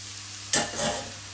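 Noodles hit a wok of stir-frying vegetables with a sudden burst of sizzling that then fades to a softer crackle, heard up close with no talk.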